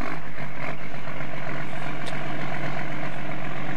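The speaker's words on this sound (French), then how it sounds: "Donc le bruitage moteur au ralenti, c'est exactement la même chose." A tractor engine idles in a farming video game mod, giving a loud, steady low rumble with a constant mechanical drone and no break or change in pace.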